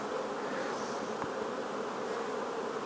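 A honeybee buzzes close by on a hand, a steady, continuous drone with a slight wavering pitch and no talking.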